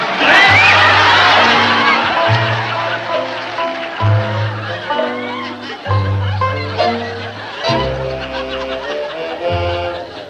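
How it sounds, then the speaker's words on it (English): A live studio audience claps, whoops and laughs for a newly announced junior class president, loud and close, with a sustained low musical tone running under the noise and a voice breaking in partway through. "all you swell folks clapping hands for little old homespun me"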